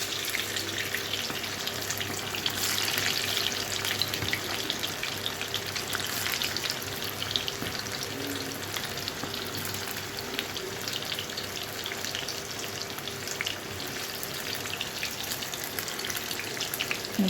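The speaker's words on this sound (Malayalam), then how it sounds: "ചൂടായ എണ്ണയിലേക്ക് ഇങ്ങനെ ചിക്കനെ പൊരിക്കാനായിട്ട് ഇടുകയാണ്." Chicken pieces frying in hot oil give a steady, dense sizzle with crackling and popping that runs unbroken and fairly loud throughout, with no voices.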